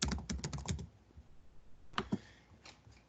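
Computer keyboard typing, a quick burst of clicky keystrokes entering a spreadsheet sheet name, followed by a pause and a few scattered, softer taps, close and fairly quiet.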